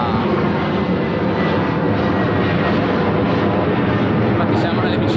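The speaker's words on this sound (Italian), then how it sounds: "C'è anche un aereo che parte, guardate." Airplane climbing out after takeoff near Treviso's airport, a loud continuous broadband engine roar filling the whole stretch without pause, heard from a nearby gravel cycling route.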